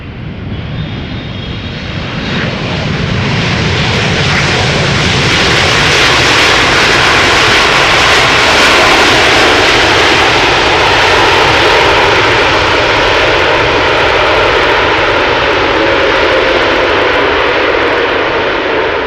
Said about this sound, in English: This is China Southern Cargo, arriving from Shanghai.